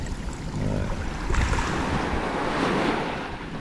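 Large ocean waves crash beyond a coral reef as a steady broadband roar mixed with wind buffeting the microphone. The sound is loud and continuous, with no talking.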